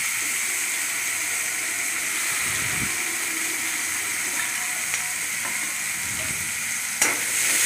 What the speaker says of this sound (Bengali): দিয়ে ভালো করে পেঁয়াজটা নাড়াচাড়া করে নিলাম।